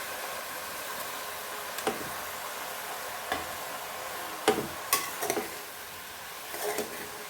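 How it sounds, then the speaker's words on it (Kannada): Ridge gourd is stirred in a pan with oil and turmeric, giving a soft, steady sizzle with occasional scrapes and clinks of a spoon against the pan, close and fairly quiet. "ಇದನ್ನೆಲ್ಲ ಎಣ್ಣೆ ಜೊತೆ ಹೊಂದ್ಕೊಳ್ಳೋ ಥರ ಗೂರಾಡೋಣ"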